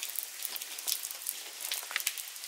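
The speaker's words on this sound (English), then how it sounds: "it's raining outside" Steady rain falls outdoors on a Sunday in October in Sao Miguel, Azores, a soft continuous hiss of drops patters on surfaces, with no voices.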